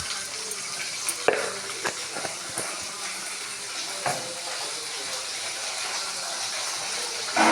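Oil in a cooking pan sizzles steadily at close range, a broad hiss with scattered crackles and a few sharper spatters, continuing without talk.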